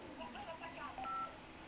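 Phone keypad tones beep as a small child presses the buttons on a telephone: several short, faint tones in an irregular sequence, with soft background noise.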